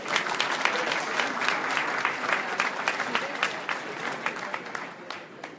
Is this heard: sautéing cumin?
no